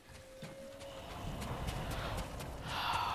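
A horse in the Ghost of Tsushima video game, with a short whinny-like tone at the start and then a steady clip-clop of hooves building over a noisy game soundscape.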